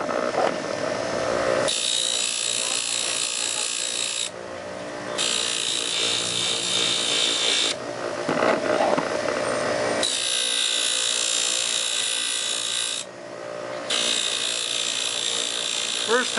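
A serrated knife edge is held against a spinning buffing wheel, a bright whirring grind that cuts in and out in several passes a few seconds long, with speech between passes.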